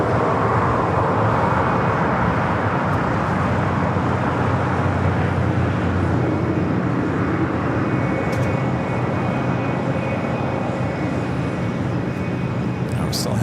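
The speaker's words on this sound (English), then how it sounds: "It's a beautiful A380 Super. Making that turn on to taxiway Kilo." An Airbus A380 taxiing and turning onto a taxiway at LAX, a loud steady jet engine roar with broadband rumble that holds constant throughout, heard from a distance across the airfield.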